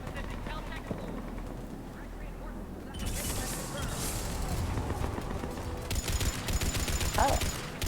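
Rapid bursts of enemy gunfire and explosions in the video game Mass Effect 3 build into a dense, continuous barrage, with a voice talking underneath.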